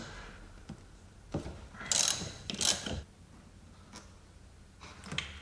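Close-up ratchet clicking while a Torx 40 bolt on a Jaguar S-Type brake booster is loosened in the engine bay. Short bursts of rapid ratcheting come between brief pauses, with no talk.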